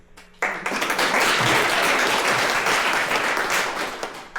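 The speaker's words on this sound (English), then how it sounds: "There's going to be lots of clapping here." An awards ceremony audience breaks into loud, sustained clapping after a brief quiet moment, the dense applause holding steady before tapering near the end.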